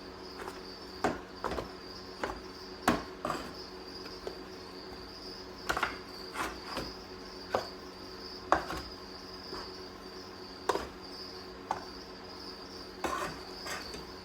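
Baby pinhead crickets in a breeding container, with sharp clicks and knocks of the container being handled recurring over a faint steady background hum.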